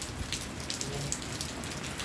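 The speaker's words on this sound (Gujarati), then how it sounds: "અત્યારે વરસાદ ચાલુ જ છે" Heavy downpour falling steadily in a village in the early morning, a continuous dense hiss of rain on surfaces with no voices.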